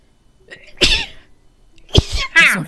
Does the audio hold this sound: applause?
no